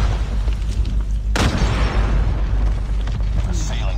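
A bomb blast in the mobile shooter Call of Duty Mobile, one sudden loud boom partway through that rolls into a rumbling tail over constant game noise.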